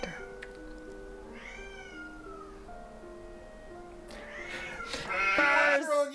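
A cat meows several times, faint warbling cries at first, then a louder, closer drawn-out wail near the end, over quiet background music.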